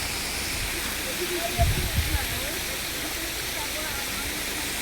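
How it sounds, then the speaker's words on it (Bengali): A small trickle of water falls at Tirathgarh waterfall below an almost dry riverbed, making a steady, even broadband rush throughout, with a few faint low bumps and murmurs in the background. "তিরাথগড়ের পর জল একদমই নেই, এই অল্প এখান দিয়ে জল পড়ছে।"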